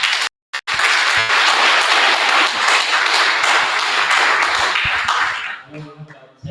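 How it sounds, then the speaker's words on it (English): Sustained audience applause for Professor Lucas Njega at a diaspora talk, broad and steady clapping after a short gap, tapering off near the end as a voice begins speaking underneath. "Let's give Professor Lucas Njega a favor of applause."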